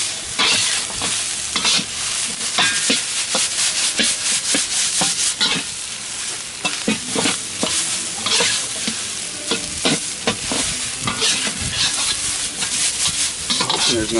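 Stir-frying in a wok set on a Big Green Egg grill, with steady oil sizzle under constant scraping and clattering strokes of a spatula against the metal pan, close and busy throughout.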